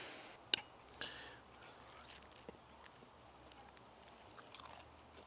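Crunchy breaded pork schnitzel is bitten and chewed with a few sharp crunches early on, then quieter chewing, all faint and close with no talking.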